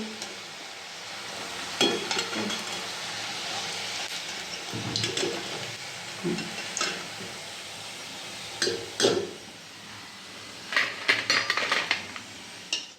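Fried raw potato fasting bhaji being lifted out of a pan of oil, with a series of metallic scraping and clinking utensil knocks over a steady background hiss of frying.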